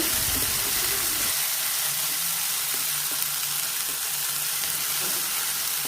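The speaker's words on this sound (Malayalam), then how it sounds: "വെളിച്ചെണ്ണയിലോട്ട് ഇഞ്ചി വെളുത്തുള്ളി ചതച്ചത് ഇട്ട് കൊടുക്കാം പച്ചമുളകും ഞാൻ ചതച്ചിട്ടിട്ട് കൊടുക്കുന്നുണ്ട്" Crushed ginger, garlic and green chili frying in coconut oil make a steady, close sizzle that runs unbroken, with a brief louder burst of spattering at the start.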